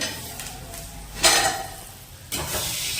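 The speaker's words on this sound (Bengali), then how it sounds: "আর এই যে আলু ভাজাটা চাপিয়েছি" Potato fry cooking in oil in a wok, a soft background sizzle with two sharper bursts of stirring and scraping against the pan, close by and without speech.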